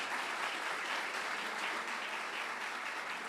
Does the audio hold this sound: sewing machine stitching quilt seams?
no